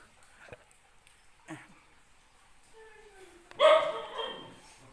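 Two dogs give a few sharp barks and yips near the entrance of Guano Cave in Matag-ob, Leyte, the loudest burst coming near the end, with quieter sounds and a bit of voice between.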